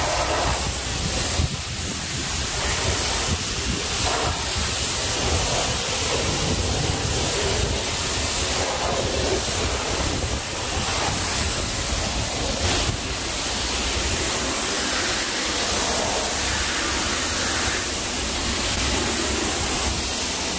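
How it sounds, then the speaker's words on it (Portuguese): Pressurized water spray from a coin-operated car wash in Portugal rinsing a car, a steady loud hissing rush that continues unbroken for about twenty seconds, close to the microphone and heard without voices. "E agora, mais 50 cêntimos e passar a água."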